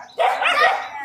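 A dog barks once from a rooftop, a short, fairly close yelping bark that stands alone against a quiet background.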